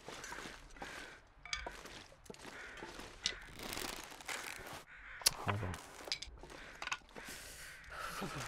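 Crows cawing in the survival video game The Long Dark, several scattered calls over a steady outdoor ambience with faint footsteps and small clinks.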